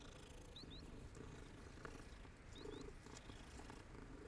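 A calico cat in the Hogwarts Legacy video game purrs steadily while being petted, a soft, continuous low rumble at moderate level with faint ambient game sounds and a couple of brief chirps over it.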